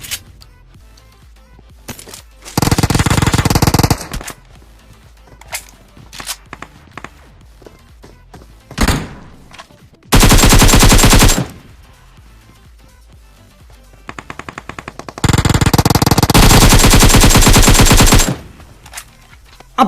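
Bursts of rapid automatic gunfire from a shooter video game, several loud sustained volleys separated by gaps with scattered single shots, clicks and footsteps between them, no talking.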